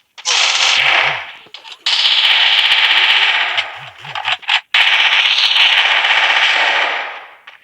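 Rapid automatic gunfire fills a shooting video game in long, loud, dense bursts, with brief gaps and short electronic tones in between; no one talks.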